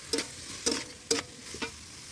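Long beans frying in a pan, stirred in four short bursts of scraping and sizzle against a quiet kitchen background; no voices.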